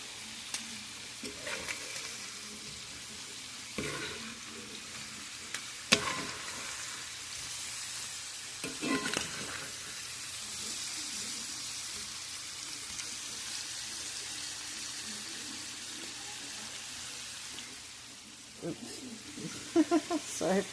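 Blackened shrimp sizzle and fry steadily in a hot pan, a continuous hiss broken by occasional stirring clatters, with a voice talking faintly over it.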